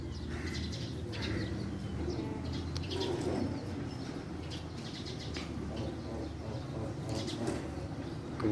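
Pigeons coo softly in a low, steady murmur, and brief wing flaps and rustling break through now and then. The birds sit close by against a faint background hum, and no one speaks.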